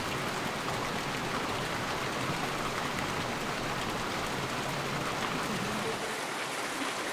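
Rain falling on a milky white outdoor hot spring bath in Japan, a dense, even hiss of drops hitting water that holds steady and fairly soft throughout with no other sounds standing out.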